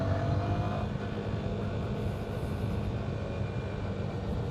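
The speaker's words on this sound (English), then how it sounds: "a lot of traffic out today." Road traffic and engine noise roar continuously while riding a 2025 Yamaha R125 motorcycle with a quickshifter, a dense, loud rumble with wind, steady throughout and no talk.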